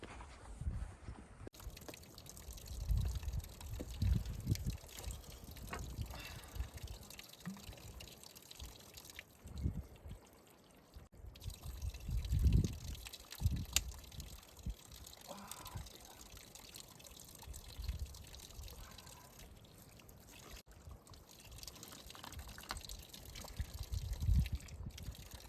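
Cold water trickles and pours along a mountain stream on a trek to Chandernahan, a close, continuous gurgle with uneven splashes that swell and fade over about twenty-five seconds.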